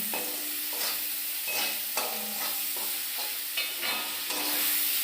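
Potatoes and tomatoes just added to a frying pan, sizzling steadily with several distinct stirring scrapes at irregular intervals, close up, moderately loud, with no voices.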